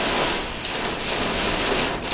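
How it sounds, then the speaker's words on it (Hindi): Very heavy rain pours down in a dense, continuous hiss on a Houston freeway during a tornado warning, with faint passing traffic blended into the downpour and no talking. "बहुत तेज बारिश है, नजर कुछ नहीं आ रहा।"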